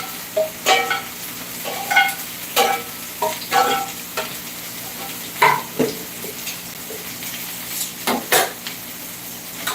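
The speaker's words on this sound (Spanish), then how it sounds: "Vamos a agregar los 8 tomatillos y los 3 chiles serranos" Tomatillos and serrano chiles sizzle in a hot pan while a spoon stirs them, with sharp scraping and clinking strokes repeating every second or so over a soft frying hiss.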